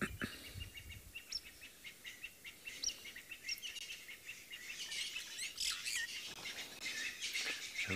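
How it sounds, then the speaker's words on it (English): Burchell's starling calling from a perch almost directly overhead at sunset on an African safari, its chirps and squawks mixed with other bird calls against a continuous outdoor background. "we've got a birchall starling sitting almost above us, who you can probably pick up in the mic"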